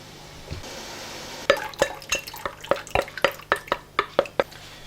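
A spoon knocking rhythmically against a pan while piccalilli paste is stirred, about a dozen crisp, evenly spaced clinks close by, with no voices.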